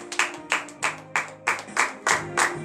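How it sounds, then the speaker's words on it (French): Rhythmic hand clapping during a Beninese morning church prayer, with about eight sharp, evenly spaced claps in quick succession from a group, plus a faint sustained vocal tone underneath. "acclamation à l'Éternel"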